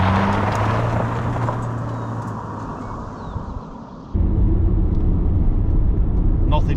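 A 2012 Subaru Legacy pulls away and drives, its engine rumble and road noise steady underneath, stepping up louder partway through as speed builds.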